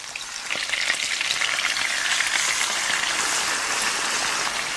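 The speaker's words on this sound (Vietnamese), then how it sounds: "Khi dầu đã nóng thì mình cho thịt vào chiên nè." Pork frying in hot oil in a pan over medium heat gives a steady, loud, close sizzle with crackle and spatter throughout, with no talking.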